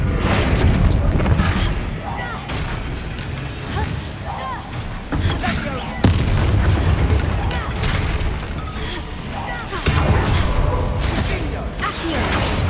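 Confringo blasting spell explosions in Hogwarts Legacy, a series of loud booming blasts and crashing impacts spread over several seconds, repeated in irregular bursts amid game combat noise.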